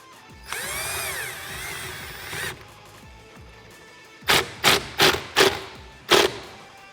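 Power tool tightening the original steering wheel bolt on a 2007-2012 Jeep Wrangler JK, a whining run of about two seconds followed by five sharp, close impact bursts in quick succession.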